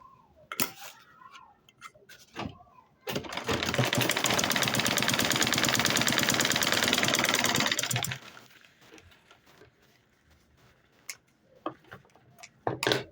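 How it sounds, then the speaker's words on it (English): A sewing machine top stitching a fabric envelope runs in one loud, steady, rapid burst of about five seconds, with scattered handling clicks and thumps before and after. "So still top stitch here, pull this one inside like this, and top stitch it."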